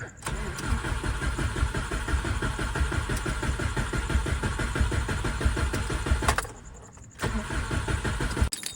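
A car engine in a partly complete motor install cranks steadily with a fast rhythmic starter chug for about six seconds, pauses briefly, then cranks again, loud and close.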